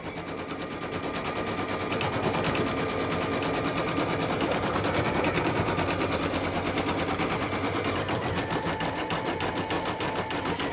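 An embroidery machine rapidly stitching green thread around leaf shapes on a glittered iron-on patch, a continuous fast rattling needle rhythm, close and steady throughout.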